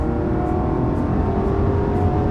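A Rolls-Royce accelerates hard at high speed, heard as a loud, steady engine and wind roar with a faint rhythmic pulsing, no talking.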